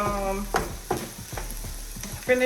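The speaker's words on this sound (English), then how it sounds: "So I'm gonna go ahead on and add my garlic in." Chopped garlic sizzles steadily in a pan for smothered okra with shrimp and sausage, with several sharp clatters of stirring breaking through the constant frying hiss.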